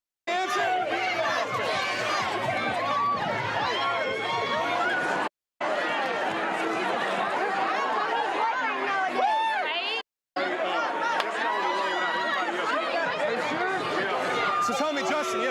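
Crowd of people chattering loudly around an arguing couple at a confrontation, steady dense babble with overlapping raised voices, broken by two brief silent gaps.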